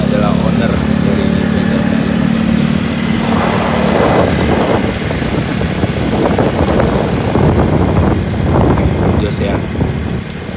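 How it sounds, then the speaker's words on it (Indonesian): Restored Honda Vario 110 scooter out on a test ride, a steady mid-pitched engine hum with broad road and wind noise running loud and continuous throughout, with a voice briefly audible over it. "Dan untuk test ride ini, sini kita yang megang"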